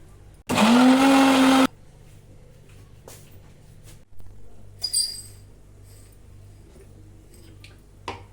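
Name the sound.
mixer grinder grinding chicken masala paste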